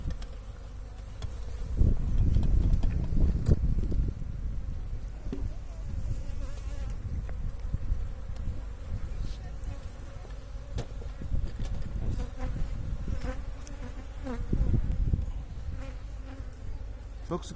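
Honeybees buzzing in a steady, close hum around an open beehive, with a fuller swell early on, as frames are worked through a crowded colony.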